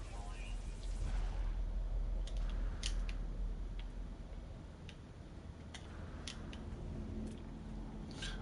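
Repeated short scraping and ticking bursts from a terrain manipulator digging into ground in No Man's Sky run steadily over a continuous low hum.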